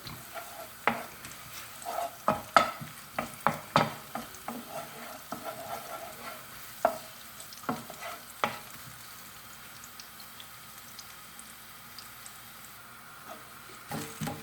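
Chopped garlic fries in a pan with repeated clinks and scrapes of stirring over a soft, steady sizzle, the strikes bunching in the first half and returning near the end, with no talking.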